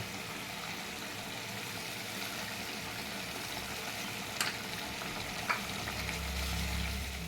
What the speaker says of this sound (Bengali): এবার আমি বেগুনগুলো একটা একটা করে দিয়ে চামচ ঘি দিয়ে নামিয়ে ফেলব